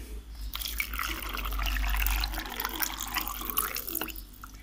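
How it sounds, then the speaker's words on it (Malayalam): Water pours into a mixer grinder jar, giving a continuous close splashing gush that swells and then tapers off over a few seconds. "ഇനി നമുക്ക് ആവശ്യത്തിനുള്ള വെള്ളം ഒഴിച്ച് കൊടുക്കാം"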